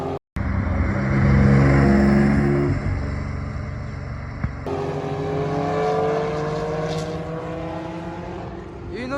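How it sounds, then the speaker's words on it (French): A Ford GT40 race car arrives fast at the Dijon-Prenois circuit with a loud, rising engine roar that swells to a peak, cuts off abruptly, then resumes as a fainter, rising note as the car passes. "Et une autre Ford GT40 qui arrive bien vite."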